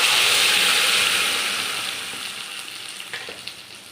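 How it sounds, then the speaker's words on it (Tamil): Amla paste and curry leaves bubbling in a pan give off a loud, steady hiss and sizzle that slowly fades, with a few faint clinks near the end and no voices. "இப்போ இது நல்லா கொதிக்கணுங்க."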